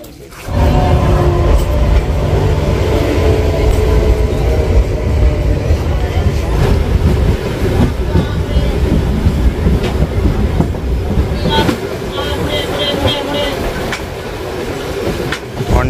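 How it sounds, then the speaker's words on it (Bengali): A local train pulls into Dubrajpur station, loud and close, its wheels clattering rhythmically over the rails with a rising rumble and some squealing toward the end, while voices murmur on the platform. "ওই যে ট্রেন আসছে"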